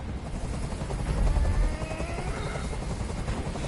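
Helicopter hovering close overhead in the video game Detroit: Become Human, a dense steady rotor thrum and rumble with a low pulsing throb, loud and continuous with no one talking.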